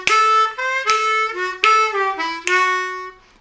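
A solo harmonica plays a lick, a short phrase of bent draw notes and a quick triplet, close and clear, with three or four sharp attacks and no talking over it.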